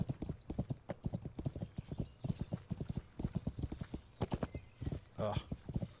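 A horse in the video game Kingdom Come: Deliverance gallops with a fast, steady clip-clop of hooves, close and loud, with a brief whinny near the end.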